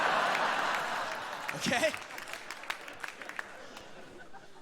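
Audience applause at a comedy festival show fills the first half, a dense wash of clapping that swells briefly and then thins into scattered claps under a man's speech.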